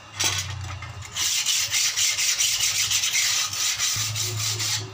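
A coarse file is dragged hard across a sword blade made from an old wood saw blade, producing a loud, steady, close rasping scrape that runs almost continuously with brief pauses.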